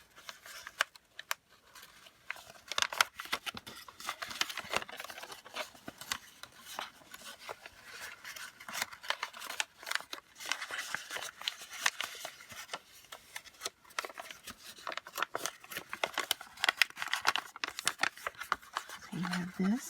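Paper being folded and tucked into an origami box, a close run of soft crinkles, scrapes and rustles through the whole stretch.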